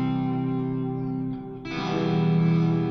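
Electric guitar on the bridge pickup played through a Brainworx Suhr PT100 amp plugin with echo, a sustained distorted chord ringing out, then dipping briefly before a brighter, fuller strum takes over.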